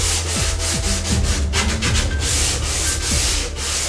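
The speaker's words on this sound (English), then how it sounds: "Then sand the inside angle to create a rounded surface." Sandpaper rubbing steadily across the inside angle of a wooden opening to round it over, a close, continuous scratchy back-and-forth with no talking.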